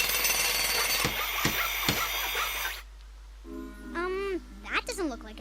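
Cartoon carpenters hammer in a few sharp, separate knocks over a noisy, busy background, then the clatter cuts off and an animated voice chatters briefly.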